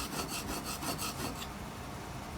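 A hand tool's blade rubbed back and forth across a sharpening stone, giving a steady close-up rasping scrape with a pulsing stroke rhythm for about a second and a half, then a softer continuous grind.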